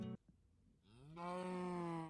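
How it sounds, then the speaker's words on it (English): A cow in a video game story gives a long, loud, drawn-out moo that swells after a brief low grunt, heard alone without talk. "The cow stands calmly."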